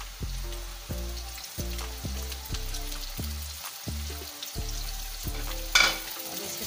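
Bitter gourd fries with onions and green chillies in a pan, giving a continuous close sizzle with occasional stirring scrapes and a louder spatter near the end, with no talking.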